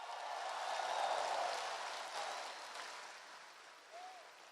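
A crowd at a political rally claps in sustained, dense applause heard from some distance. It swells early, then slowly fades while staying steady underneath.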